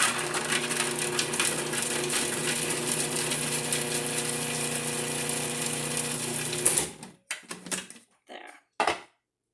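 A food processor whirs loudly and steadily as it chops peeled garlic in a dry bowl, then cuts out, leaving a few close clicks and knocks.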